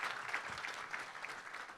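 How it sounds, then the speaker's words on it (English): A conference audience at an airport business diversity meeting gives a brief round of applause, with steady, moderately distant clapping from many hands filling the hall. "So I want to start by just at least giving them a round of applause."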